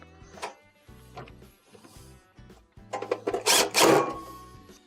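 A screw is driven back into the top panel of a Samsung stove with a triple radiant element, giving short mechanical whirring bursts that repeat and grow louder near the end, with nobody speaking.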